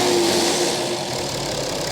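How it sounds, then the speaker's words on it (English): A BMW-converted Nissan Patrol 4WD engine running loud and close, a steady mechanical drone with a low hum that eases slightly, alone without talk. "Gonna go give it a little rev."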